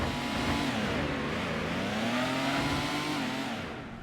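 Purple Dodge Concept car in Gran Turismo on PlayStation, its engine revving continuously, the pitch climbing and dipping through gear changes, loud and steady before easing slightly at the end.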